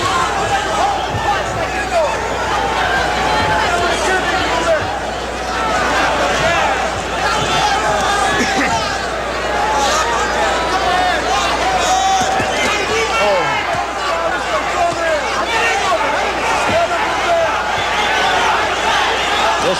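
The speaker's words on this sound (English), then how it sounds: "Listen to the crowd now." A boxing crowd roars throughout a Julio Cesar Chavez vs Ruben Castillo bout after the third round, a loud, sustained wall of cheering and shouting babble with no letup.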